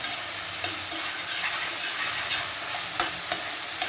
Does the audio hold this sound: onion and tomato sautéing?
yes